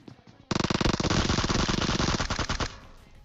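A burst of rapid automatic Uzi fire in PUBG rattles out loud and close for about two seconds, a dense stream of shots that stops abruptly, then fades into quiet.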